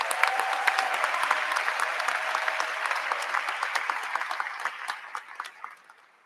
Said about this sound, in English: Let's give the 3 speakers another round of applause.